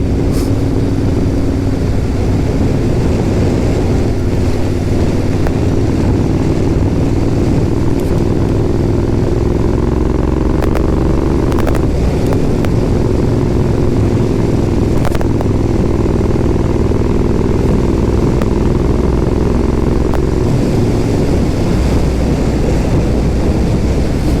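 A Royal Enfield Interceptor motorcycle engine drones steadily while riding, with a continuous low growl that shifts pitch slightly as it accelerates, mixed with heavy wind rush across the microphone throughout.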